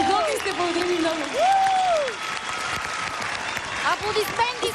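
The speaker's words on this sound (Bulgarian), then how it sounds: "Аплодисменти за Надя" A TV studio audience on a talent show applauds performers after their song, clapping and crowd noise running throughout while a host speaks over it with rising vocal tones.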